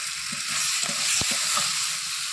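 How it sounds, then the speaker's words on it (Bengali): Potatoes sautéed and stirred with salt in a pan, a steady close sizzle broken by a few scraping stirs of the spatula, with no talking. "আলু দেওয়ার পরে লবণ দিয়ে দেবো, স্বাদ মতন লবণ। ভালোভাবে কষিয়ে নেব।"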